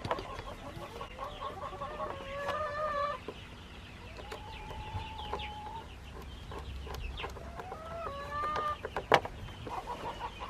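Chickens cluck and call around a yard with a new automatic float waterer from Coops and More, with short bursts of clucking coming and going over steady outdoor background and one sharp knock near the end.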